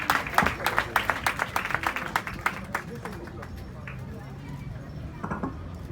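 An audience claps at a school excellence-day award ceremony in Keur Massar Sud, with quick, sharp, closely spaced claps at first that thin out and fade into murmuring crowd chatter and a few scattered final claps.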